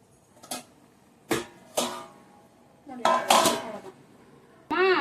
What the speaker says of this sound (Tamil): கிண்டிட்டு அரிசி வேகட்டும்.